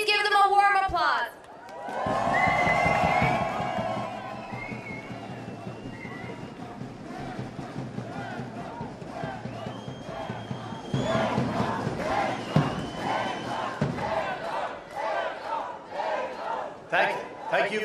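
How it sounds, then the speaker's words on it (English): A rally audience at a Stockholm gathering supporting the MEK and NCRI bursts into loud cheering and applause after a brief voice, the crowd noise swelling, dipping, then rising again with mixed shouts throughout. "a warm applause"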